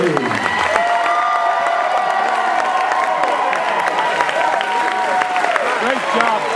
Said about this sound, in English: will you please free your hands to give a round of applause to the best man